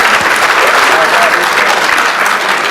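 Loud, dense applause from a live comedy show crowd in Hyderabad, a continuous wash of clapping with faint voices mixed in throughout.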